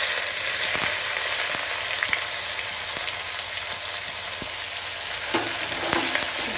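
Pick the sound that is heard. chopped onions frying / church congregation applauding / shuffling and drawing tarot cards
chopped onions frying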